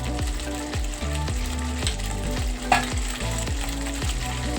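A potato and pea curry cooking and being stirred in a pot: a constant close sizzle with a regular, repeating stirring rhythm and one brief brighter scrape, no talking.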